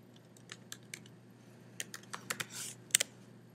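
Keys clatter on a computer keyboard as a login name and password are entered for a client portal account, a sparse run of separate taps with short pauses, then a quicker burst of keystrokes near the end, close and fairly quiet.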